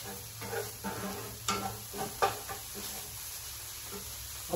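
Shrimp and vegetables for dirty rice sizzle steadily in a hot pan, with a few stirring scrapes and clacks of a utensil rising briefly above the constant frying hiss.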